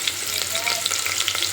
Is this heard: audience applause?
no